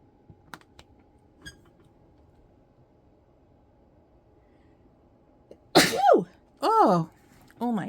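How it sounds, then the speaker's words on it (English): A person sneezes from pumpkin spice scent drifting off a nearby wax burner, two or three close, loud, pitched sneezes in a row after a few seconds of quiet with faint clicks. "The pumpkin spice is making me sneeze a little bit."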